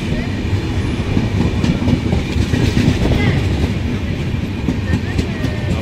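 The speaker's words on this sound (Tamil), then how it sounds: "ட்ரெயின் ஆல்ரெடி வந்துட்டு இருக்கு." A passenger train pulls into Alappuzha railway station in Kerala, a loud, continuous rumble of rolling coaches with faint clickety-clack and brief metallic squeals, close by and steady throughout.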